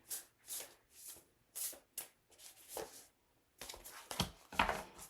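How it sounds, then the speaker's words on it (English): Tarot cards being shuffled by hand, with repeated crisp riffling bursts and soft slaps, close and fairly quiet, with short pauses between the shuffles and no talking. "We'll just pull two cards right away because that seems to be what's happening."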